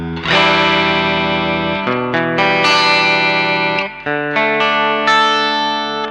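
Ibanez RG5170G electric guitar in the middle pickup position plays a short melodic phrase of bright, sustained notes with chorus and echo effects, loud and close, with no talking.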